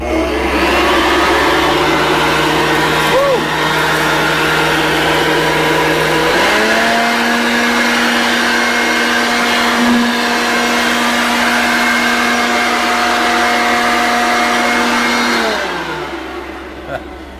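A Toro 51621 Ultra Plus electric leaf blower runs on a small patio, a loud, steady whine with a fan roar that jumps to a higher pitch partway through, holds there, then winds down and stops.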